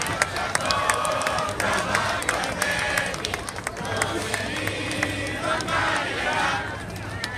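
Crowd at a Greek Independence Day parade in Boston clapping and cheering for community school children, scattered claps and shouts over a continuous din, with an announcer's voice carrying through.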